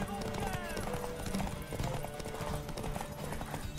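Horse hooves clip-clop at a gallop and then slow to a stop in The Witcher 3 video game, with a steady rhythmic beat, a horse snort or whinny, and game sounds and a voice talking over them.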